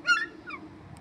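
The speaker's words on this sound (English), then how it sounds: "Big bird." A large bird gives a loud honking call, one strong note and then a weaker second one, close by in the morning.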